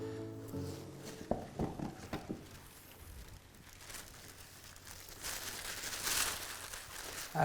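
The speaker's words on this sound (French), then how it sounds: "le bruit du papier soie" Tissue paper crinkles and rustles in irregular bursts, close to the microphone, with soft handling noises and no talking.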